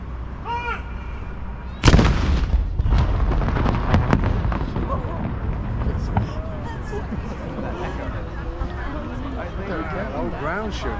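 At a Parks Canada historic site, a gunpowder weapon fires once with a loud sudden boom and trailing rumble, followed by crowd chatter and outdoor murmur.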